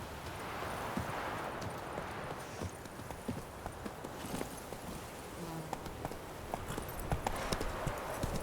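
A horse's hooves clip-clop steadily over ground in The Witcher 3, a continuous rhythmic trot with the faint buzz of insects in the background.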